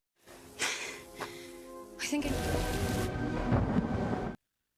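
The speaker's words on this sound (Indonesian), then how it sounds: "dalam perjalanan mereka malah dihantam hujan deras dan angin kencang" Heavy rain hisses steadily in a horror film, with rumbling thunder rolls breaking in at intervals, fairly faint overall and cutting off abruptly at the end.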